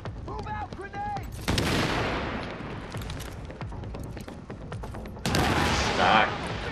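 Rapid gunfire rattles in The Division, punctuated by two heavy grenade-like blasts with roaring, noisy tails, all close and loud, with a voice speaking briefly at the start.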